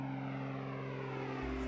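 A float plane's propeller engine drones steadily and close, a loud continuous tonal hum in a remote Saskatchewan camp setting, with no voices.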